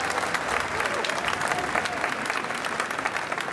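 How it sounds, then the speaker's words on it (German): An outdoor audience at a drum corps tattoo at a castle applauds warmly, continuous clapping with some crowd noise, fairly near and even throughout. "Und diesen Applaus können wir gleich nochmal wiederholen."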